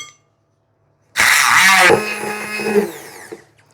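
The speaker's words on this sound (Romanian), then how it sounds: "o să fac cu blenderul aceste banane piure foarte fin." After a moment of silence, a blender roars to life loudly, pureeing bananas very finely, whirring steadily as its pitch shifts while the contents churn, then winding down.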